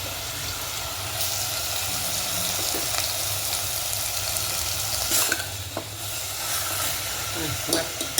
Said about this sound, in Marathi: आता त्यामध्ये टमॅटोची प्युरी आता तेलामध्ये चांगली भाजलेली आहे. तर आपण यानंतर चिकन टाकायचं आहे.